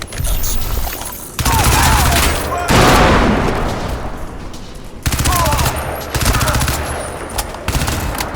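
Gunfire in the video game Crysis 2 Remastered: dense bursts of rapid automatic shots in several loud, close volleys, separated by brief gaps and mixed with echoing impacts.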